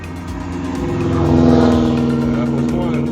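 A rally car engine swells as it passes along a rural road during a rally, a broad steady roar rising toward the middle and easing off, with people talking over it.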